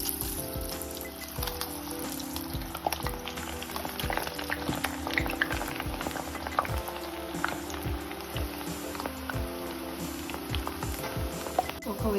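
Jowar flour murukku frying in hot oil, a steady bubbling sizzle with scattered pops that carries through the whole stretch beneath faint background music.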